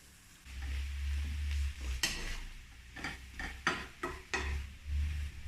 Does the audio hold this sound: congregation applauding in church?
no